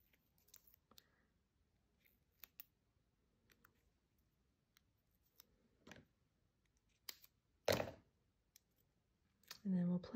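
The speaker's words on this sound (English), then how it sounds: "I'm just going to cut a little strip off the edge." Scissors snip a thin strip of paper from the edge of a card panel in a few short, sharp cuts, with quiet rustling and handling between them. The loudest snip comes near the end, close and fairly faint overall.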